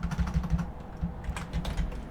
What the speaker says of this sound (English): Sorry, my keyboard.